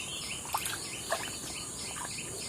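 Parent prinia calling near its nest beside a river, with a few short, thin chirps repeating over a steady hiss of river and insect background.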